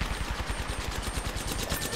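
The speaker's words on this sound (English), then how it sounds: "They're shooting at me." Rapid automatic gunfire in Apex Legends, a dense, continuous stream of shots for two seconds with no pauses, at moderate loudness under faint game noise.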